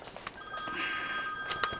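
An iPhone rings with a steady electronic ringtone, fairly faint and sustained, with no talk over it.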